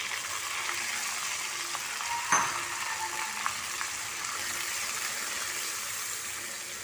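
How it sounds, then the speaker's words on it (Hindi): Semolina being lightly fried in hot desi ghee for saffron halwa, a steady close sizzle and hiss running throughout with a short scrape or knock of a spoon partway through. "सूजी को हम लाइट सा फ्राई करेंगे, बहुत ज़्यादा डार्क नहीं करेंगे इसे"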